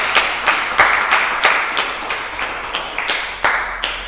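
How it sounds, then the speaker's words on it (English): Applause at a Good Friday children's church service, a small group clapping in a reverberant space, with distinct rhythmic claps roughly twice a second ringing out over a soft continuous patter. "can we give Lydia a round of applause, please, for what she's done?"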